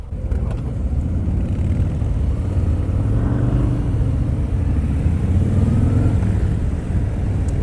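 A 2018 Harley-Davidson Sport Glide 107 is ridden on the road, its V-twin engine giving a deep continuous rumble that rises and falls gently with throttle, close and loud under wind noise, with no talking.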